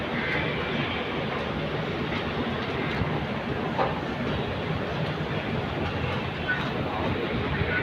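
A Delhi underground metro train runs with a constant dense roar and rattle, loud and close, with faint clicks of the wheels throughout.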